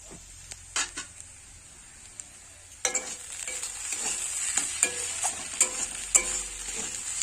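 Water spinach fries in a wok as a spatula pushes it aside. A few soft clinks give way to a sizzling hiss with repeated scraping, clattering stirs close by.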